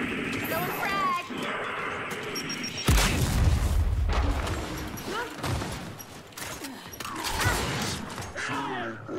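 A frag grenade explodes in Gears of War, a loud close boom with a low rumbling tail amid gunfire and game noise, while a voice talks over the action.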